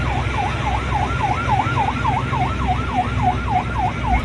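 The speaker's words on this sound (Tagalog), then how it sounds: "At binugahan ang mga mangingisda natin ng sirena." A Chinese coast guard ship's siren blares at fishermen near Bajo de Masinloc, a loud, steady wailing tone that sweeps up and down in quick regular cycles over a low engine rumble, with no talk.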